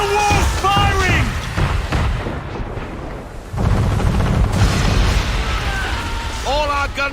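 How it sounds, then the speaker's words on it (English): In Assassin's Creed III, a man-of-war's cannons fire in heavy, rumbling booms that roll on for seconds, with shouting voices over the blasts and a short lull before another barrage. "We're under attack! Man of war's firing!"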